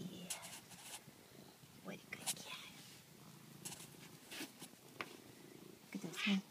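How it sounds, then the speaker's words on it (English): A cat purring softly up close, a quiet rhythmic rumble with occasional faint rustles and a small sound near the end. "And you're purring, aren't you?"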